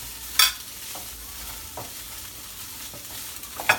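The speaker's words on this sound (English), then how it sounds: "And just continue to mix it." Fish laab seasoned with fish sauce is stirred in a pan: soft scraping strokes at a slow, uneven pace over a faint sizzle, with a couple of sharper clinks at the start and end.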